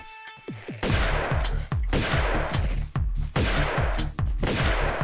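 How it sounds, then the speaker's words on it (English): Repeated shotgun blasts in the Tomb Raider II video game's Las Vegas level, five loud booming shots in a steady rhythm, each followed by a decaying crash, with some faint smaller pops before the first. "Let's get into a shotgun fight."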